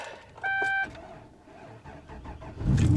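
Supercharged Hummer H2 truck engine cranking and catching, a short whirring crank followed by the engine firing up loud and close at the end, with a brief electronic chime earlier.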